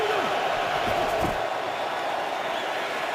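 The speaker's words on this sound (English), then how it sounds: "the Lions crowd making some noise." A Detroit Lions home crowd at an NFL game against Washington keeps up a steady, distant roar that stays even throughout, with brief whoops rising above it.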